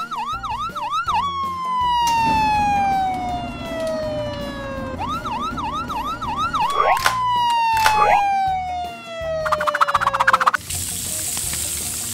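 A toy fire truck's electronic siren blares loudly, switching between rapid warbling yelps and long falling wails, with a few clicks and a burst of static-like noise near the end.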